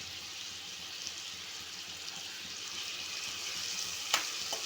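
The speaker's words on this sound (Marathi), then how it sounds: "आपला इथे आता कांदा छानपैकी परतून झालेला आहे" Onion sautés in a pan for an okra curry, giving a steady, even sizzle with soft stirring and a brief sharp clink near the end, close and fairly quiet with no voices.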